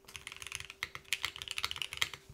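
Mechanical keyboard on a tenkeyless FRL board, fitted with linear switches built from an NK Silk bottom housing, KNC Keys linear stem, Cherry MX top and silk spring, typed close up in a fast run of crisp, clacky keystrokes with no voices.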